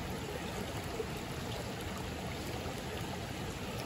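Stream water running outdoors on the Sugarloaf Trail in Shenandoah National Park as a water bottle is filled: a steady, faint wash of trickling flow with no talking.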